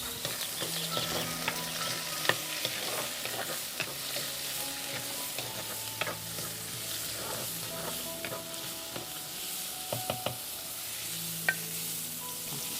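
Chopped tomatoes hit a pan of sizzling shallots and green chillies for a Tamil mango fish curry, a steady quiet fry with repeated scraping and tapping of a stirring spoon.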